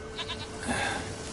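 A single short goat bleat from the video game The Witcher 3, a quick quavering call close by over quiet ambient game sound.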